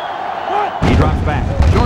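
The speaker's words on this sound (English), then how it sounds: "this crowd is going absolutely insane" A stadium crowd in NCAA Football 07, Oregon against Oregon State, swells abruptly into a loud, sustained roar that fills the space, with faint talk audible before the surge.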